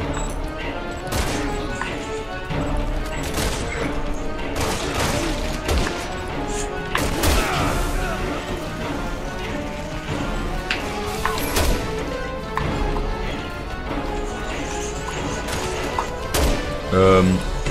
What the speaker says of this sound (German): Der Sniper schießt durch.